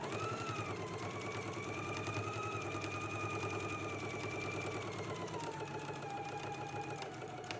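Sewing machine stitching a seam on a Know Me 2089 garment, a steady rapid mechanical chatter heard quietly throughout, with a faint continuous tonal hum over it and no talking.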